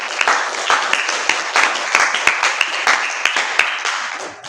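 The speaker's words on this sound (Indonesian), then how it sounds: "Tepuk tangan dulu buat Hayu." A classroom of students claps for a classmate, a dense burst of many hands with irregular sharp peaks, steady and fairly loud for several seconds before fading out.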